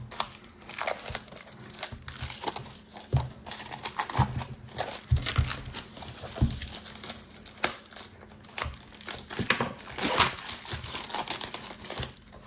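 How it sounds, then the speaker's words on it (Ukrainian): New manga volumes being unwrapped from layered packaging, giving a steady run of close crinkling, crunching and tearing of plastic and paper, with irregular rustles and crackles throughout and no talking. "ніколи не надаїсть відкривати нову мангу"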